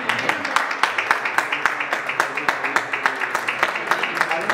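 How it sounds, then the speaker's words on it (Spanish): A crowd at a Don Benito wine contest awards ceremony claps in a quick, regular rhythm, the sharp claps evenly spaced over a low murmur of voices. "Un aplauso."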